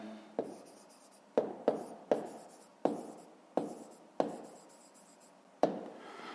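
Pen or pencil writing on paper while noting down the answer to a fifth-grade math exercise, heard as a series of crisp scratchy strokes separated by short pauses, close and quiet with no talk.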